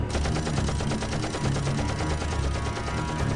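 Rapid automatic gunfire on a beach in Teenage Mutant Ninja Turtles: The Last Ronin 2 RE-Evolution, a dense, continuous rattle of shots filling the whole stretch at close range with no break.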